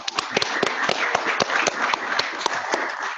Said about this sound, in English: one more round of applause for UAA